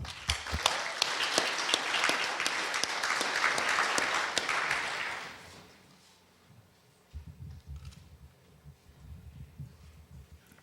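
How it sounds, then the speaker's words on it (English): A crowd at a youth mental health summit applauds steadily for several seconds, then the clapping fades out and low rumbling noise follows. "Let's give Katie a round of applause"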